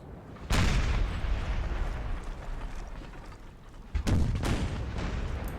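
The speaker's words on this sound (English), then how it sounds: "Guns still going off." Artillery guns firing in a Napoleon Total War multiplayer battle: two heavy booming cannon blasts, each trailing into a long rolling rumble, loud and close, with no talking.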